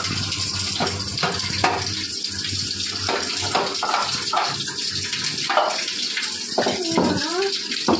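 Water gushes steadily from a turned-on tap in a kitchen where a fridge and grinder table have been moved aside for cleaning, with clattering knocks and scrapes breaking through the continuous flow.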